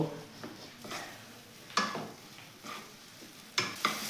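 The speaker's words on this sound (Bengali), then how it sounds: "আলুটাকেও টমেটো পেঁয়াজ কাঁচা লঙ্কা এই কুচিগুলোর সাথে ভালো করে নেড়ে নেব" A spoon stirs mashed potato with chopped tomato, onion and green chilli in a pan, making repeated close scraping strokes with light sizzle, several distinct scrapes across a few seconds.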